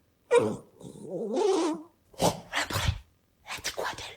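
A dog gives a close, wavering, whiny vocal sound early on, then short bursts of someone speaking French follow.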